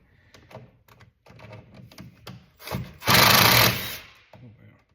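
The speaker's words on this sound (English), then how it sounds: "we'll use the impact." Impact driver loosening a tight bolt on a broken trim tab actuator, a loud rapid hammering burst of about a second amid quieter clatter and handling noise, with a voice speaking around it.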